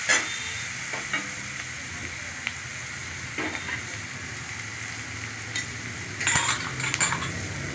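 Spice masala with salt and turmeric sizzles and fries steadily in a pan, with a spoon scraping and stirring through it now and then and a louder clatter of stirring near the end; no talk.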